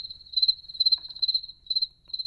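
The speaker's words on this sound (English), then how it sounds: "Crickets." Crickets chirp in steady pulsing bursts, a single clear high trill repeating roughly every half second, close and alone with no other sounds.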